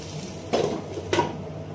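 Curry stir-fried in a pan with a little water: two distinct clinking scrapes of a utensil against the pan stand out over a faint, low background sizzle.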